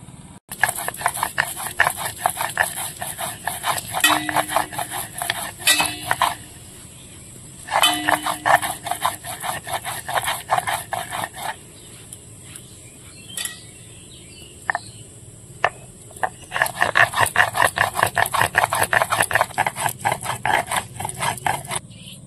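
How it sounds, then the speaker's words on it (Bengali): Ginger, garlic and chili are ground into paste on a grinding stone, with rhythmic bursts of rough scraping and rubbing, close and fairly loud, pausing between spells of grinding. "শাক ভাজাটা হতে হতে আমি এদিকে সবকিছু বেটে নেবো। আদা রসুন আর আজকের লঙ্কা বাটা দিয়ে রান্না করব ডিমটা।"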